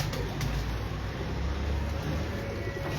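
Antique breeder pigeons cooing in low, soft, repeated murmurs beneath a constant background hum. The cooing stays at a steady, moderate level, and no one speaks.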